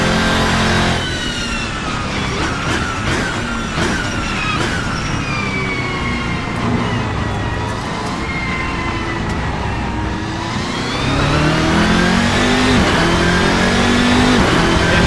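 Race car engine in Assetto Corsa, a Race Sim Studio car on a lap with warming tyres, revving loudly and continuously, pitch climbing through the gears, dipping, then rising again.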